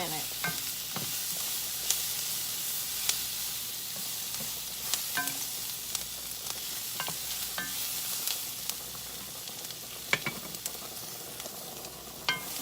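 Onions fry and brown in a pan with a steady soft sizzle, punctuated by frequent light scrapes and taps of stirring throughout.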